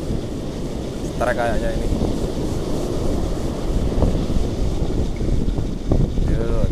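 Strong wind buffeting the microphone on a southern beach during fishing, a constant loud roar with surf wash underneath, while someone speaks briefly over it.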